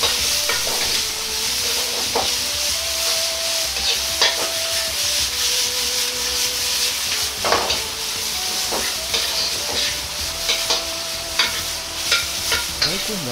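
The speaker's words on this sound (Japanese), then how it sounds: "大根は水分が多いので強火でじっくりと炒めていきます。" Daikon radish stir-frying over high heat in a pan, a steady close sizzle broken by repeated scraping and stirring strokes of a utensil, running continuously with no voices.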